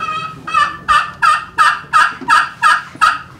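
Aluminum turkey call imitating a female hen turkey, giving eight clear, evenly spaced yelps in a steady rhythm, loud and near, with no voices.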